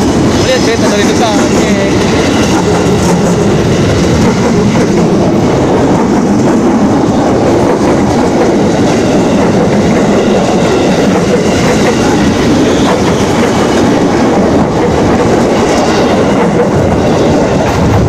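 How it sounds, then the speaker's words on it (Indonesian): A train passes at close range for a long stretch, with a heavy, steady roar and rhythmic wheel clatter filling the whole time, and voices faintly mixed in. "Lama kita lihat kereta guys. Lihat kereta dari depan."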